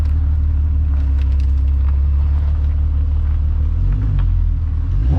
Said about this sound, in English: I hear you touching the gas pedal